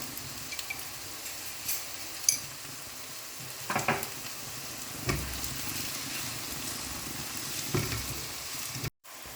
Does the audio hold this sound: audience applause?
no